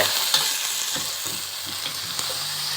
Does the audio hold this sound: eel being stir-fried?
yes